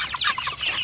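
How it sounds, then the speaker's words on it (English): Chickens on a farm cluck and squawk loudly and close by, a dense overlapping burst of hen calls with no talking. "Oh, I'm trying to keep these birds in."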